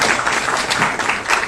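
Brief burst of steady, dense clapping from a youth conference audience, loud and continuous from start to finish with no voices standing out.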